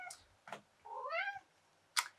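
A pet cat gives a rising, drawn-out meow between short soft chirps and rustles, fairly close but quiet, with no talk over it.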